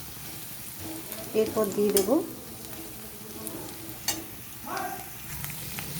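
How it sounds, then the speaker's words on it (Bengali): Garam masala and dried chillies sizzle and crackle in hot oil while being fried and stirred for masala prawns, a brief loud burst of spluttering followed by quieter frying under a short spoken remark. "এরপর দিয়ে দিচ্ছি গরম মশলা, শুকনো লঙ্কা, সেটাও খুব ভালো মতন ভেজে নেব।"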